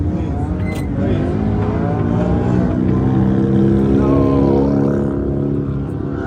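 A JZ-swapped Nissan 240 revving hard to spin a wheel, a loud sustained engine roar with rising and falling pitch close by, with a voice briefly audible underneath.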